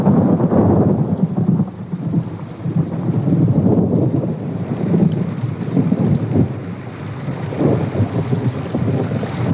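Heavy thunder rolls on continuously over a rainstorm, a deep booming rumble swelling and fading in waves, loud and close, with rain hiss and wind beneath and no voices.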